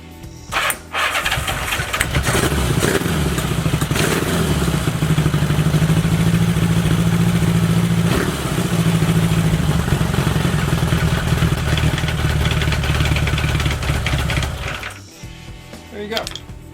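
Motorcycle engine cranking and catching near the start, then running loud and close at a steady idle with a slight rev for over ten seconds before shutting off near the end.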